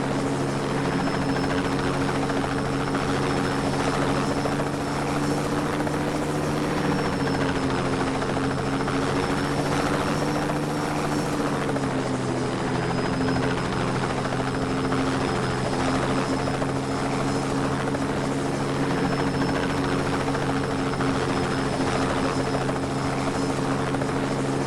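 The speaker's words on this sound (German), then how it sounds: "Mit dem Heli bist du gleich drum." Helicopter flying in the video game Just Cause 2, a loud continuous rotor thrum and engine whine holding steady throughout with a slight dip in pitch midway.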